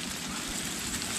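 Steady outdoor rain falling on a rocky spot, an even hiss of droplets throughout with no breaks or voices.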